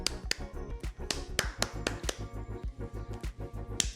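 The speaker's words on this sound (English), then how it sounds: "here's me clapping to myself for getting 300 subscribers in the future" One person claps alone in a steady, rhythmic run of sharp, close hand slaps, repeating evenly throughout with no talk.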